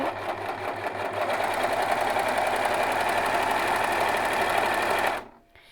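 Overlocker serger running a threaded 3- and 4-thread stitch chain: a rapid, even mechanical whirring and clatter, close and steady, for about five seconds before it stops abruptly.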